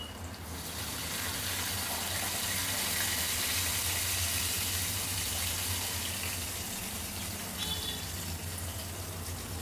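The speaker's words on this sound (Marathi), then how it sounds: "आणि याच्यात आपण थोडंसं पाणी टाकूया." A steady gush of water pours continuously into a pan on the stove for several seconds, close and fairly loud, with no talking.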